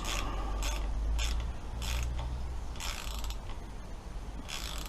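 Repeated gritty, grinding ratchet-like clicks of a tight, corroded bolt being turned on a Kawasaki ZX10B, bursts recurring every second or so over a steady low background rumble.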